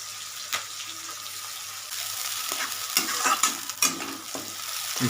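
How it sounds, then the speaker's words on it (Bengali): Chopped and halved onions with whole garlic cloves frying in oil for a chicken gravy, a steady close sizzle broken by several sharp scraping stirs of a spatula against the pan. "এই যে পেঁয়াজ দিয়ে যখন ভাজা হয় রসুন দিয়ে এই ফেসটা আমার দারুণ লাগে"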